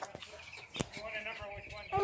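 Chickens cluck on a chicken farm, with several short fowl calls scattered between outdoor bumps and rustling, fairly close, and a person speaking briefly in the background.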